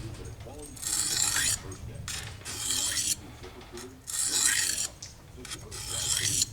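Rhythmic rasping strokes of a knife drawn across a 400-grit diamond sharpening stone, four long gritty passes with brief pauses between, close and steady.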